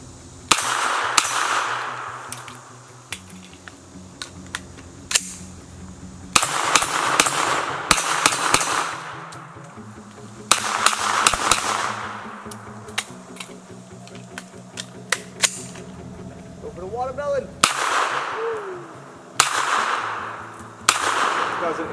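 A Troy A4 9mm firearm fires at a watermelon outdoors at about 25 meters: loud, sharp shots come singly and in quick clusters, spaced irregularly, with a ringing echo after each.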